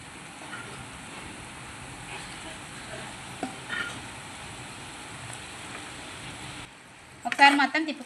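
Prawns frying in a pan for prawn curry make a soft, steady sizzle close by, with a few small clinks and a louder burst of clattering sizzle near the end.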